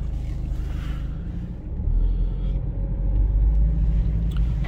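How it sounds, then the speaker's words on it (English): A BMW 120d M Sport diesel hatchback pulling away on a test drive, its low engine rumble and road noise swelling steadily from the cabin as it gathers speed, with no one speaking. "This car drives really, really well."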